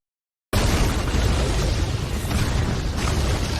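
Explosions in the animated series Tales of Demons and Gods burst in after a moment of silence, a loud continuous roaring blast with deep rumbling low end and crackling debris sustained to the end.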